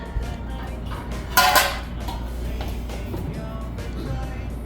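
A Trinidad-style fruit cake is flipped out of a metal baking pan, giving a short clattering knock of pan against a surface with a brief metallic clink, close and fairly loud, amid quiet kitchen background.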